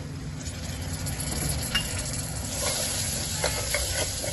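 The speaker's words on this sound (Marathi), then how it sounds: "हे सर्व तेलामध्ये चांगले परतून घ्यायचं।" Ground spices and finely chopped tomato fry in hot oil with a continuous close sizzle and hiss, broken by a few soft clicks as the pan is stirred.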